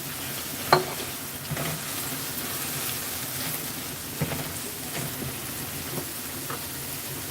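Chopped tomatoes hit hot oil in a frying pan for a fish curry, a steady crackling sizzle with scraping stirs and a sharp clatter near the start.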